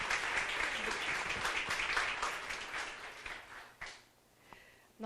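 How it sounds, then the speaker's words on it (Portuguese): Audience applause welcoming a doctor to the stage at a special plenary lecture for Pink October, steady dense clapping that fades out near the end, followed by a voice beginning to speak. "Eu peço uma salva de palmas para a doutora Daniela."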